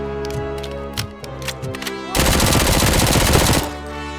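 Gunfire in the video game Robocop Rogue City: a few single heavy shots, then a rapid sustained burst of automatic fire for about a second and a half, loud and close over background game music.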